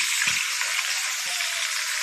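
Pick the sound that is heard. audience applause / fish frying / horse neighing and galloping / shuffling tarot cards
fish frying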